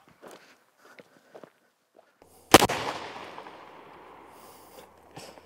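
A single loud, sharp shot from a .458 SOCOM bullpup rifle fired outdoors, with a long rumbling decay, preceded by faint handling clicks and followed by another soft click.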